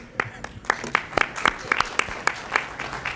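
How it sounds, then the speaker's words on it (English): Golf claps from an audience at a county commissioners board meeting, about a dozen sparse, separate hand claps spaced unevenly, politely soft and close. "Golf claps, please."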